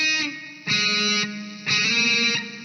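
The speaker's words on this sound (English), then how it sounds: "play an open, then we're going to do an open hammer on that same string." Distorted electric guitar picking open strings with hammer-ons in a riff, three sustained ringing phrases separated by short gaps, loud and close with no voice.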